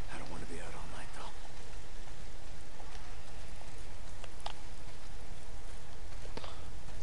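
Steady, dense hiss of heavy rain pouring down in the video game Days Gone, continuous and even throughout, with faint scattered clicks on top.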